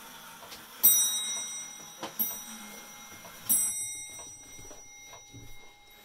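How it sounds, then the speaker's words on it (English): An antique eight-day mechanical clock from an antique store rings its loud bell three times at roughly even intervals, each bright metallic strike ringing out and decaying slowly, with faint ticking and room noise between. "the bell on this clock is so loud"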